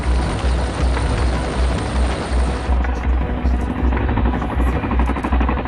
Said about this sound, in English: the helicopter can be flying away to safety at nearly 190 miles per hour